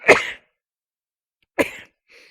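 A lecturer sneezes in a quiet hall at a Buddhist monastery, two sharp bursts about a second and a half apart, close and loud, followed by a faint short sound.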